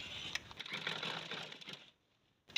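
Sewing machine stitching piping onto a flat collar, a steady close whir lasting under two seconds, then a brief pause and a short restart.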